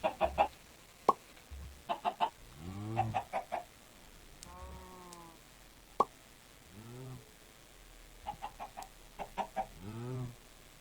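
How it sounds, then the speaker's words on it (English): Slime chickens in the Minecraft video game cluck in short repeated bursts, with separated groups of clucks and occasional sharp pops over a quiet background, and no talking. "we are going to use the slime from the slime chickens"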